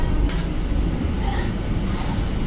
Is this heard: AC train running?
yes